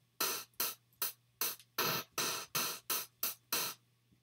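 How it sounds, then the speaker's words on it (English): Eleven synthesized 8-bit hi-hat hits made with SFXR tick by in a quick, fairly regular rhythm, each a short, hissy burst of bright noise, loud and alone. "The next sound I'm going to show you is the 8-bit hi-hat,"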